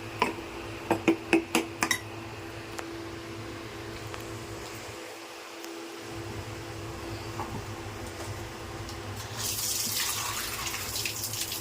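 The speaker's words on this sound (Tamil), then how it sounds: "ரெண்டு கப் தண்ணி அதை ஊற்றிக்கணும்." Water is poured into a cooking pot, a steady running splash that swells louder toward the end, after a few sharp clinks of metal near the start.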